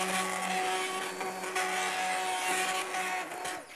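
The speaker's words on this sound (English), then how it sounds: "This will just puree those onion chunks." A hand blender whirs steadily as it purees onion chunks in a pot of pumpkin tomato bisque, a fairly faint, continuous motor whine with a slight rattle and no speech.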